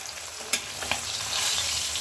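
Gurjaoli fish sizzles steadily in hot oil in a pan for a fish curry, a close, continuous crackle with a few brief spits and pops.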